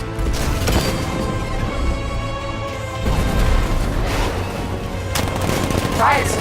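Tank cannon fire in the video game Batman: Arkham Knight: loud, dense volleys of booming blasts and crashing impacts that roll on continuously, with a brief lull midway.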